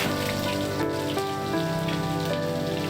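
Chopped onion, black cumin and bay leaf frying in hot oil, giving a dense, even crackling sizzle that holds steady and close throughout.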